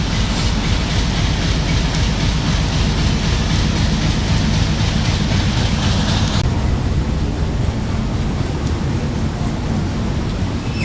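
Passenger train 267UP from Rawalpindi stands at a station platform in the rain, with a loud, steady broadband rumble and hiss running unbroken throughout.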